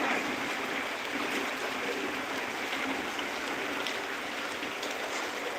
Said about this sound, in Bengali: আকাশে চারিদিকে মেঘ শুনশান নিরবতায় বৃষ্টি হচ্ছে